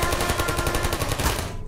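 Dense, continuous rapid gunfire in the video game Portal, a machine-gun burst rattling steadily and loudly for over a second before cutting off.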